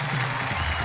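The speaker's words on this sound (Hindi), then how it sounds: "हम जोरदार तालियों से स्वागत करते हैं प्रवीण शुक्ल" At a Hindi poetry gathering, an audience breaks into dense applause to welcome poet Praveen Shukla. The clapping forms a brief, steady wash of many hands.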